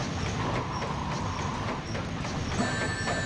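A passing train in the video game Sonic Adventure 2 gives a steady, loud rumble with rhythmic clatter, holding at a constant level throughout the short stretch.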